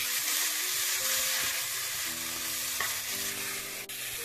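Lettuce bhaji with turmeric and Himalayan pink salt is stirred in a frying pan. A constant loud sizzle is broken by occasional spatula scrapes and taps against the pan, close up with no talking.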